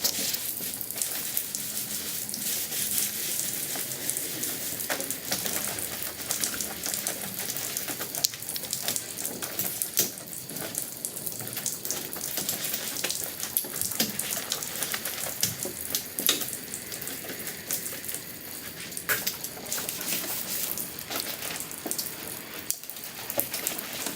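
A wet chamois wiped over a rinsed boat hull from front to back, giving a steady, continuous crackling hiss of damp cloth and dripping water, close and fairly even throughout with no talk.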